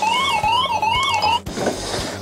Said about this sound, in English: Many people who are new to DSC are unsure what the radio is telling them when the alarm sounds.